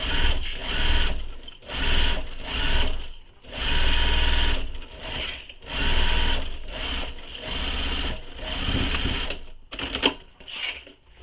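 A sewing machine stitches along the edge of a backpack in bursts of steady mechanical whirring, with short pauses between runs and a sharper clatter near the end.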